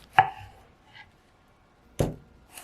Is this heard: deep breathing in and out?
no